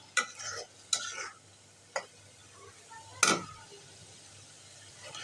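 A spice paste with potatoes is stirred and sautéed in a pan, a few sharp scraping strokes of a spoon over a faint, quiet background sizzle, close by with no talking.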